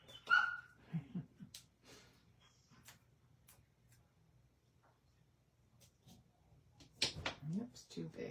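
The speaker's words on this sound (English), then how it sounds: "the puppy's yipping" A small puppy lets out a few faint, high, short yips in scattered bursts, heard at a distance in a quiet room while people talk softly.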